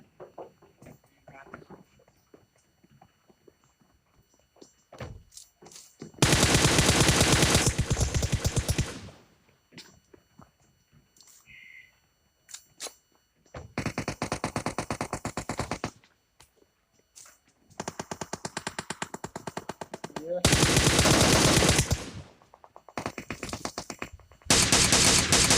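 Bursts of automatic gunfire in the battle royale game PUBG Mobile during a duo-versus-squads match, loud sustained volleys of several seconds each, separated by quieter stretches with scattered single shots and footsteps.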